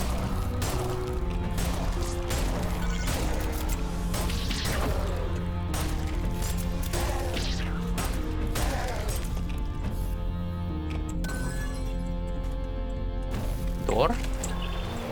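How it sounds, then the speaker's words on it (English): Repeated crashing and smashing explosion impacts in the video game Ultrakill, several bursts over a dense noisy backdrop, with a person talking over them. "A million explosions."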